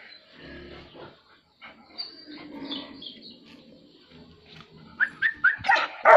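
A native Vietnamese hunting dog, used for hunting foxes, cats, rats and junglefowl, barks in a rapid burst of four or five sharp, close barks near the end, after a quieter stretch of low, indistinct sounds.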